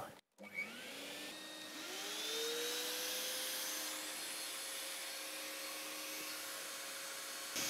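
A vacuum cleaner starts up beside a GenMitsu 4040 Reno CNC machine and runs steadily, its motor rising in pitch to a loud continuous whine.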